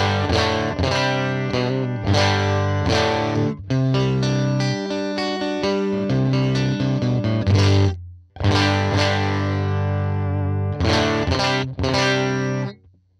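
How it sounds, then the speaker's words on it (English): Electric guitar through a UAFX Woodrow amp with a simulated Fender Bassman 4x10 cabinet, Jensen P10R speakers miked by a 57 dynamic mic, played as loud sustained chords and riffs with a brief drop near the end, no voices. "So this should sound like a Fender Bassman"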